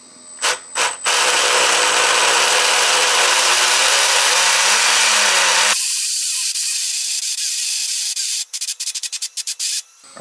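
A belt-drive motor on an upgraded Skeeride electric skateboard, lifted off the ground, runs with a steady, loud whir for about five seconds, then cuts out and leaves a few light clicks and taps.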